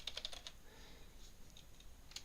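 Typing on a computer keyboard, a quick burst of light key clicks at the start, then a quiet stretch with a few isolated taps near the end, close and faint.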